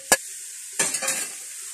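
Onions hit lightly heated oil with a short sharp clatter, followed by a burst of sizzling and stirring that fades into a soft, steady fry.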